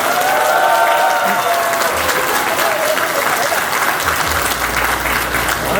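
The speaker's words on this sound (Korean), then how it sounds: "큰 박수 한번 부탁드리겠습니다" An audience applauds at a Saenuri Party city chapter chairman's inaugural address in Daegu, a loud, dense, sustained wash of clapping that fills the whole stretch with crowd noise and no pause.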